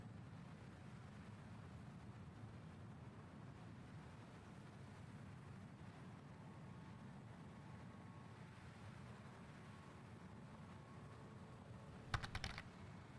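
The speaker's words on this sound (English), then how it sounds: "So you're not a fan of hearing me type?" Faint, soft typing on a computer keyboard sits under a low room hum, with a short burst of sharper key clicks near the end.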